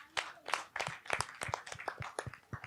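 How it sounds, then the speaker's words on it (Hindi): An audience bursts into clapping at a Hindi talk session, a quick burst of brisk handclaps, moderately close and fairly faint, lasting a few seconds with no talk over it. "जोरदार ताली बजा दें आपके लिए।"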